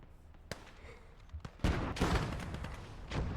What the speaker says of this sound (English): Pak-36 is starting to shoot some HE at me